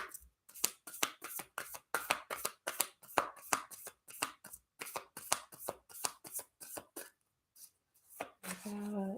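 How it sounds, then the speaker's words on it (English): Oracle cards are shuffled by hand in rapid, crisp riffling bursts, a close series of papery slaps that pauses briefly before a last flurry, with a faint tone at the end. "So we are getting a card for Amrita"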